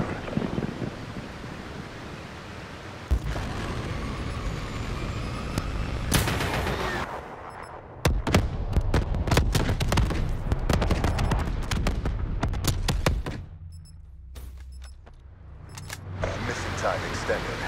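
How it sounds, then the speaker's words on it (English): Hellstorm missile strikes in Call of Duty Black Ops 3 multiplayer on Man O War, a run of heavy booming blasts and rapid crackling impacts over rumbling noise, with voice callouts heard between the explosions. "Friendly Hellstorm inbound."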